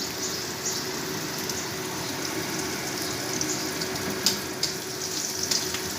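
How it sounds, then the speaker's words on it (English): Steady sizzling of food frying in a small amount of oil, with onions in the pan, a continuous close hiss with occasional louder pops and crackles, no talking. "Fry this for a while."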